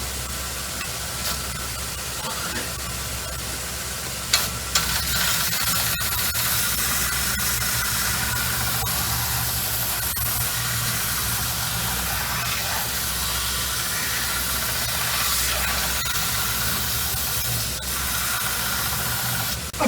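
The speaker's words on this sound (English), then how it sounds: "now we're just going to turn this old sander on" An old belt sander runs while an axe is sharpened, giving a loud, steady broadband hiss and grinding roar that continues throughout with a few brief clicks and knocks.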